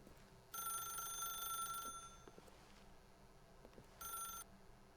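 A telephone in The Stanley Parable video game rings in two bursts of bright electronic trilling, one long and one short, over a low ambient hum, with no voices.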